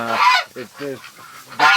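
Ducks crowd into a barn bedded with fresh straw on a bitterly cold night, giving loud honking, goose-like calls close by in short bursts with brief pauses.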